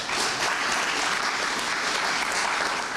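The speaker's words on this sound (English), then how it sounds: "He deserves a round of applause for that" Dense, steady applause from a large audience fills the whole stretch at an even, loud level, with no voices standing out.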